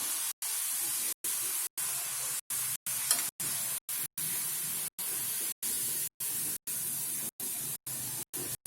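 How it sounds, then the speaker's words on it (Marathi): Chakli (a spiral Diwali snack) frying in hot oil on medium heat, giving a steady broadband sizzle and hiss that continues close by without speech, broken by regular short gaps. "मीडियम आचेवरती त्याला परतून घ्यायचं"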